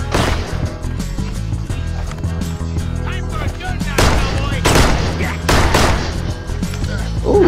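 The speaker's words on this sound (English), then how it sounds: "How is he shooting fast like that?" Rapid gunfire from the video game Six Guns, with loud bursts of shots cracking in quick succession over a busy game soundtrack, heaviest in the second half; a voice talks briefly.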